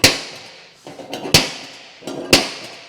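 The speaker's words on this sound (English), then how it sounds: "Now I'll get a center pop." A hammer strikes a center punch on a Land Cruiser bonnet scoop plate, giving a few sharp metallic taps roughly a second apart with some quieter clinks between, close and fairly loud.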